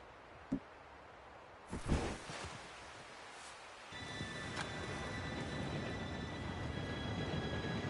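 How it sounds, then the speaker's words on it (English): A train arrives in the video game Red Dead Redemption 2, with a couple of sharp knocks and rustles followed by a steady rumbling, hissing roll that holds on as the train draws near. "Train should be here any minute now."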